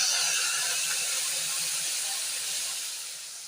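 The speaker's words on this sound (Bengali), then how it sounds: "এবার দিয়ে দিচ্ছি আমি পেস্ট করা মশলা।" Spice paste for cabbage dalna is added to hot oil with turmeric and salt, giving a steady broad sizzling hiss that fades slightly toward the end.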